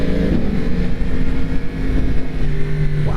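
A 2022 Yamaha MT10 SP motorcycle rides through twisty roads, its engine droning loud and close with wind rush, rising in revs near the end.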